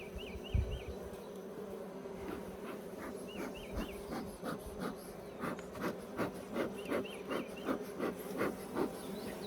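Honey bees buzz steadily at an open Layens hive, a dense, droning hum close by with faint pulsing swells and occasional soft rubbing scrapes, without any talking.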